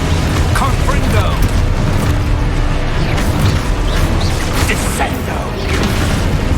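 Dense, continuous rumbling blasts and crackling mechanical effects from Confringo fire spells in Hogwarts Legacy, loud and unbroken across the whole stretch.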